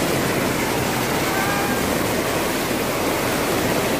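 A fast river rushes over large rocks, giving a loud, dense, continuous roar of turbulent water close by with no break.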